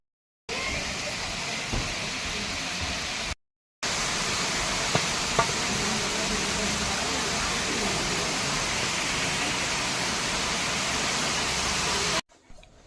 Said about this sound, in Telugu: విన్నారు కదా మీరు ఇంతకుముందు జలపాతం నీళ్ళు పారే సౌండ్ ఎలా వస్తుందో